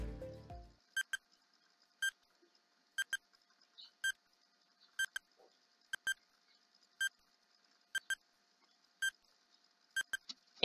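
A countdown timer beeps steadily, one short, sharp electronic beep about every second, sometimes as a quick double, faint and regular over a quiet background.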